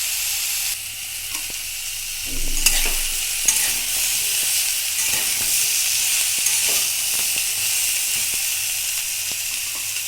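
Vegetable stalks fry in a pan with turmeric for a Bengali stalk chorchori, a continuous bright sizzle with occasional stirring scrapes and clinks, close and steady throughout, no voices.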